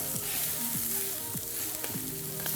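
Sausage sizzles steadily on a flat griddle while two metal spatulas repeatedly pinch and chop it, with sharp scraping strikes recurring about every half second over the continuous frying hiss.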